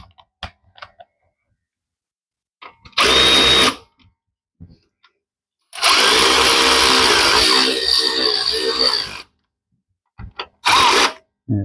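Power tool bursts driving bolts into an AC compressor on an LS-swapped C3 Corvette, with a short whir, a longer loud run of several seconds and a final quick burst, separated by silence and faint handling clicks.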